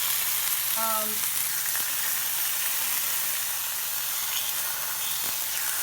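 Beef rubbed with oil, salt and pepper sears in a hot pan for beef ramen, a loud, even sizzle filling the whole stretch up close, with no talk over it.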